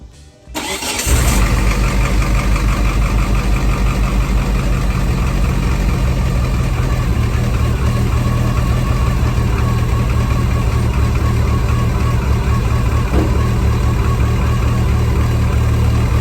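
A car engine catches after a brief crank, then settles into a steady, loud, close idle that drones on without change for the rest of the clip.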